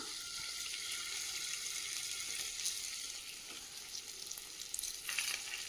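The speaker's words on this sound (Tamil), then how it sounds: "ஆயில் அப்ளை பண்ணிட்டு நம்ம கட் பண்ணி வச்சிருக்க உருளைக்கிழங்க இதோட ஆட் பண்ணிக்கலாம்." Cut potatoes fry in a thin layer of oil for a potato and egg pizza, producing a faint, constant hiss with a few light clicks near the end and no speech.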